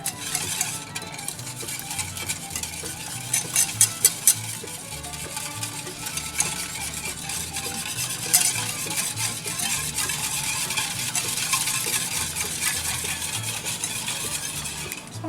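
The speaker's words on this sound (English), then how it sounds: "Let's whisk that together." Rum, water and sugar are whisked into melted butter in a pan for a pirate's rum cake, giving a steady bubbling sizzle with repeated scraping and clinking strokes of the whisk against the pan, close and continuous.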